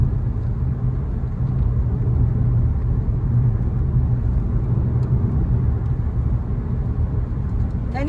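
Car picking up speed on a road near Sachkhere, a steady low engine rumble and road noise from inside the cabin, even and continuous throughout with no voices.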